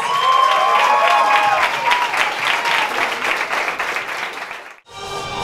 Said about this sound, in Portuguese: Mas mais palmas pras nossas